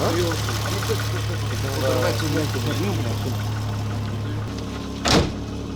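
A car engine idles steadily while warming up, a constant low hum under people talking nearby, with a brief louder knock near the end.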